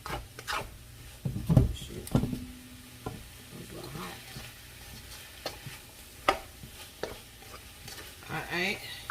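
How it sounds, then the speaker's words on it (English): Noodles are stirred through a marinated sauce in a pan, with close, irregular scrapes and wet clacks of a utensil over a faint sizzle. "Give that a little stir."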